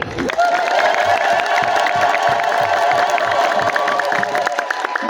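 Loud, continuous applause and cheering from a crowd gathered at an Ethiopian Orthodox church celebration in Addis Ababa, with clapping, whoops and shouts running unbroken for several seconds and a steady raised-voice tone on top.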